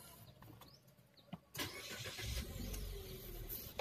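A car engine cranks and fires up with a loud surge after a quiet stretch with a brief click, then settles into a steady idle, heard up close during air-conditioning checks.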